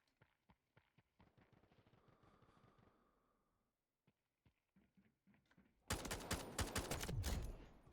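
Gunfire in the Delta Force video game: a run of sharp single shots and short bursts at moderate distance, followed by a loud, rapid close-range automatic volley near the end.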